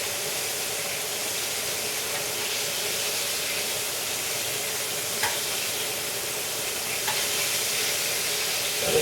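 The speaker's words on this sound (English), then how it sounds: "I'm frying my fish." Snapper fillets frying in a pan give off a continuous, even sizzle and hiss, heard close and steady throughout with a couple of faint pops.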